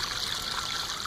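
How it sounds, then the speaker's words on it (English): Spring water trickles steadily out of the ground from beneath rocks, a continuous close bright splashing and babbling with no pauses and no voices. "right there where the water comes out of the ground"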